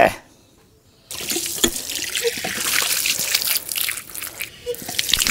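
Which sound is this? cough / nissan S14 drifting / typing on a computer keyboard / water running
water running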